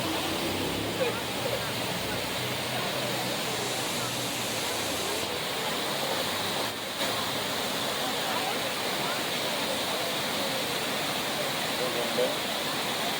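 A waterfall in Transylvania County, North Carolina, in Pisgah National Forest, roars as a steady broadband rush of falling water, loud and continuous throughout, with no voices standing out over it.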